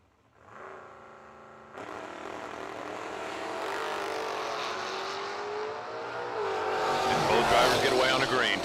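A Datsun 510 drag race car launches at a drag strip, its engine rising from a steady idle to a loud, building roar over several seconds while an announcer's voice runs underneath.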